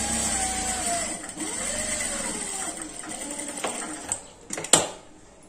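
Sewing machine stitching a paper costume: a steady mechanical whir with a high tonal whine, running continuously before a few sharp clicks and knocks near the end.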